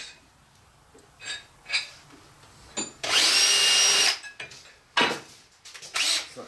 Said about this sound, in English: I'm going to drill a hole right through